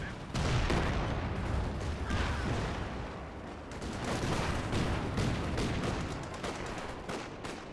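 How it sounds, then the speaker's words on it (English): Infiltration grenades and gunfire crackle and thud in the WWII strategy game Company of Heroes 2, a continuous dense barrage of explosions and shots at steady loudness with no clear pauses. "Oh, that was infiltration grenades, okay"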